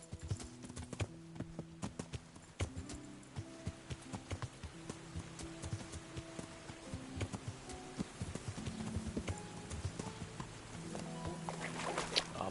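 Horse hooves clip-clop in a steady walking rhythm through the medieval video game Kingdom Come: Deliverance, with light game music and ambient sound underneath and no voices.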